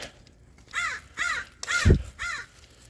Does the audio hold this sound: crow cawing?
yes